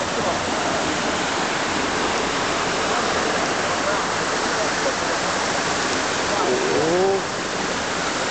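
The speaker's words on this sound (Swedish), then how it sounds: "Här är vattenfallet." A waterfall on Koh Chang gives off a constant, close, full-bodied roar of falling water. It stays steady throughout, with a faint voice briefly audible near the end.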